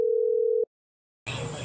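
A single steady phone ringback tone while a call is being placed, one sustained beep lasting over half a second, then silence before the line picks up and background sound begins.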